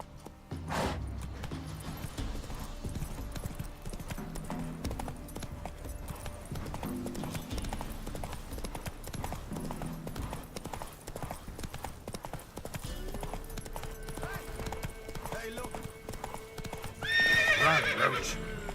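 Hooves of a galloping horse in The Witcher 3 beat in a steady rhythm, with a loud neigh near the end. Speech is faintly present in places.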